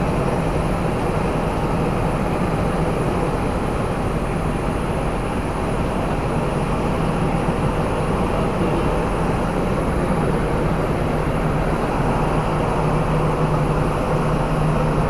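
A loud, steady engine roar drones on without a break from a Sriwijaya Air passenger airplane heard from close by at Makassar, with no voices.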